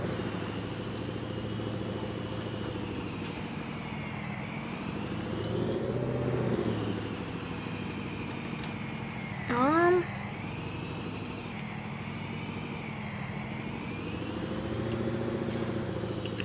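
A hot-shot pickup truck towing a lifted Jeep drives along in Farming Simulator 22, its engine a steady droning hum that rises and falls as it shifts, with a brief squealing chirp midway and a person talking over it.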